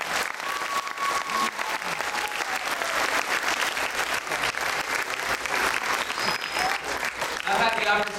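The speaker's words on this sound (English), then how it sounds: "I just want to give these kids one more round of applause for their outstanding job." An audience claps loudly and steadily for fifth grade performers at a school program. The applause is dense and sustained, with a few voices and whoops mixed in.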